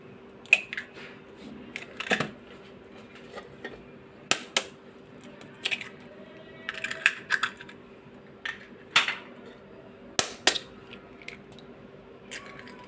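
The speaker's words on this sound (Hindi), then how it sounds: "3 अंडे हम तोड़ देंगे" Three eggs cracked one after another for sweet bread toast: sharp taps and cracks in small clusters with pauses between them, close and crisp against a quiet room with a faint steady hum, no one speaking.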